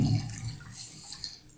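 A plaster bandage roll is dunked in water, making a brief burst of splashing and sloshing at the start that settles into soft trickles and drips.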